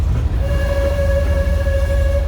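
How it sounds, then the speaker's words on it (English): An excursion train rolls along the rails at a railway museum in Eureka Springs, a loud, steady low rumble of the cars with a sustained horn-like tone sounding over it from about half a second on, no talk. "I'm glad we have this train."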